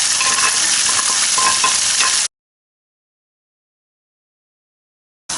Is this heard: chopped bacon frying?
yes